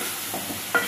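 Mushroom curry with salt and spices stirred in a pan, a brief faint sizzle ending in a single quick scrape of the spoon, close with no voices.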